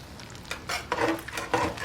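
Eggs frying in a home kitchen pan, heard as short bursts of scraping, clinking and sizzle from a utensil working the pan, several quick irregular strokes at close range with no talking.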